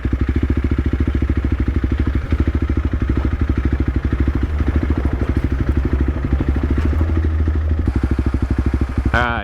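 A dual sport motorcycle rides a dirt road toward Florence, Arizona, its engine thrumming in a steady, loud, close pulsing drone throughout, with some clatter and a rising whine of revs near the end.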